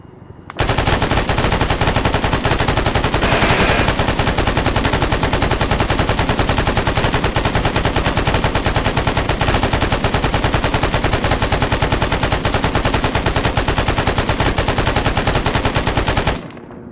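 Sustained automatic machine gun fire in Arma 3, a dense, continuous rattle of rapid shots that runs loud and steady for about sixteen seconds before cutting off abruptly.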